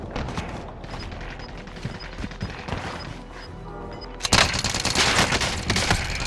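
Call of Duty Warzone gunfire pops in scattered shots and short bursts, then swells into a louder, sustained volley of rapid fire near the end.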